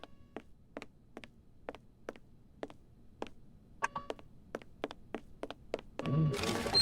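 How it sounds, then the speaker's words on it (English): Cannon loading in a Sherlock Holmes game: a series of sharp, evenly spaced wooden thunks and taps, about a dozen in a steady rhythm, ending in a burst of louder rustling clatter. "Okay, we're gonna load a cannon."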